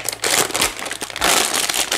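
A plastic toy packaging bag is crinkled and crushed up close, a loud burst of rustling crackles in uneven bursts with no speech.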